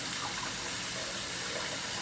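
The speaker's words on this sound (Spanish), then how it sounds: "Estoy abriendo la llave aquí, echándole un poquito de agua caliente a la comida para que se caliente un poquito porque se enfrió." Hot water runs steadily from a kitchen tap onto food to warm it, a continuous close hiss of flowing water with no talk over it.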